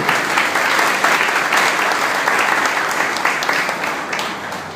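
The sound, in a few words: congregation applause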